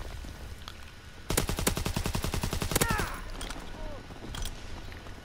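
A standard Sten submachine gun fires in Call of Duty WWII, letting off one rapid burst of about a second and a half, followed by faint clattering mechanical sounds.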